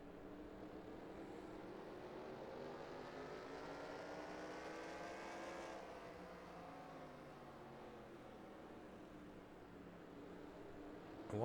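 Race car braking in NASCAR Racing 2003 during a 1997 Goody's Headache Powder 500, with a steady engine drone and falling pitch as revs drop, then a slow climb again, continuous and close.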